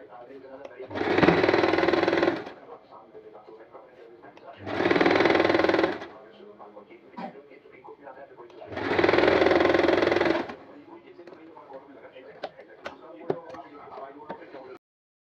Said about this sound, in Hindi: इसके ऊपर मैंने सिलाई लगा ली है